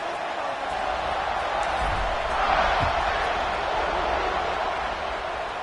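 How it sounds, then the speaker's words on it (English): Football stadium crowd during a Michigan–Georgia game, buzzing after a score: a dense, steady roar of many voices at a distance, swelling slightly midway, with scattered shouts. "this crowd is buzzing after that last score"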